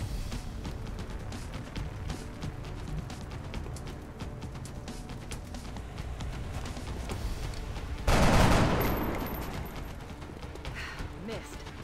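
Gunfire in the video game XCOM: Enemy Unknown, dense clattering shots layered with game sound and background music, with a louder burst of fire around the end.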